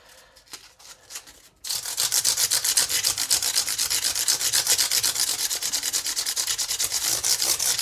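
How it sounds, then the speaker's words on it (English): Sandpaper rubbing over the fret ends and rosewood fretboard of a Gibson Les Paul Junior, a steady, close, rhythmic scraping in quick back-and-forth strokes after a brief quieter start. "I'm taking off a little bit of the rosewood as well as the metal there"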